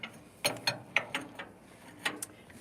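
A few sharp metallic clicks and ratcheting taps ring out in an uneven sequence while square bolts are worked loose on a New Holland Super 77 baler prototype.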